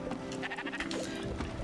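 Sheep bleat in the video game Spiritfarer, several wavering cries over a steady, busy game background at moderate level, with no talk.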